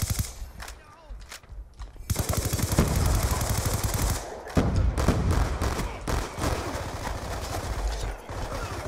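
Suppressed automatic rifle fire in Call of Duty Black Ops 2, rapid bursts of muffled shots with short pauses between them, loud and close, mixed with game effects and faint talk.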